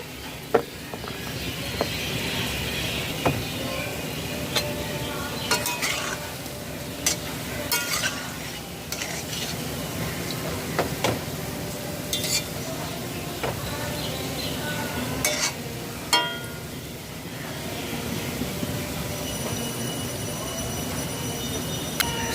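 Continuous sizzling of palm fritters frying in hot oil, with intermittent clinks and scrapes of a utensil and occasional faint background voices.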